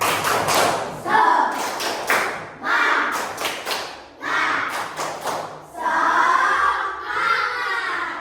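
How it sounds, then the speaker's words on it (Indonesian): Children in a classroom performing the tepuk semangat rhythmic clap, several bursts of patterned clapping separated by short pauses, mixed with young voices chanting along. "Kita tepuk semangat ya."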